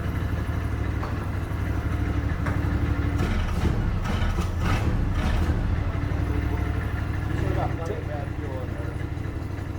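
Engine of an Argo ATV running on its own after a fuel problem, a steady continuous rumble through the whole stretch with a few revving swells in the middle, people talking over it.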